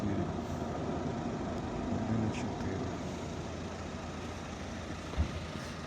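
A 2007 Skoda with a 1.4 petrol engine idles at a car market, giving a faint, steady low rumble with a brief knock near the end and some distant background noise.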